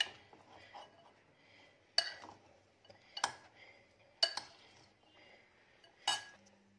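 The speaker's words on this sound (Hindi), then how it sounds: "अच्छी तरह मिक्स कर देना जी।" A spoon stirs a sweet corn salad dressed with olive oil in a bowl, with quiet scraping and several sharp clinks of metal on the dish at irregular intervals.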